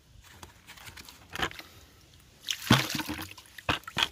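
Water is poured over a turtle found by the road, giving faint trickles and a couple of sharper splashes and splatters, quiet and intermittent against a hushed outdoor background.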